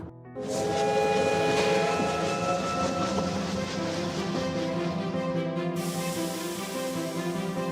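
A train rolls into a station in the video game Last Train to Clawville, arriving at Averia. A loud, sustained rumble carries tonal, whistle-like hums, then the hiss cuts off sharply near the end.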